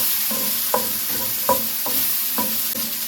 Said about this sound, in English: I love when sauteing vegetables.